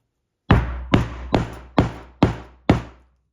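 Six evenly spaced hammer blows strike a metal grommet being set, each a sharp, close knock that rings out briefly before the next, in a quiet room with no talking.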